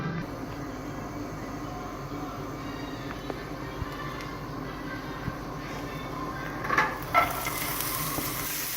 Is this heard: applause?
no